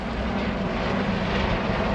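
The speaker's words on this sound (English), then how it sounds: "Helicopter." A helicopter produces a steady, loud engine roar that stays constant throughout, with no voices over it.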